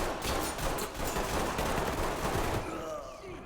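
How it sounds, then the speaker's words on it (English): Gunfire in the tactical shooter Ready or Not, dense rapid shots rattling in quick succession, fairly loud and continuous before easing off at the end, with some voice mixed in. "bullets flying"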